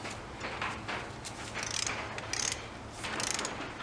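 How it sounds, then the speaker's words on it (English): A torque wrench ratchets bolts tight in a crisscross pattern, its pawl clicking in quick close bursts that repeat several times without a break, with no talk. "Alright, I'm going to start torquing the bolts."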